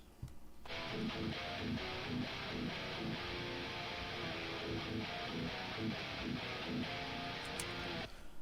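A dense, continuous electric guitar riff from a bridge humbucker through an amp's crunch channel chugs steadily for about seven seconds, then cuts off abruptly.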